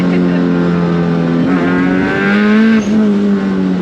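Turbocharged car pulling hard under acceleration, a loud steady engine drone with rising harmonics heard from inside the cabin, no talk over it.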